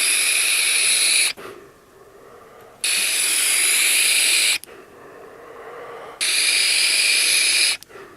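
Three long, loud airy hissing draws on a sub-ohm vape tank with a nickel coil set to 350 degrees and a quarter-open airflow, each lasting about one and a half seconds and separated by quiet pauses.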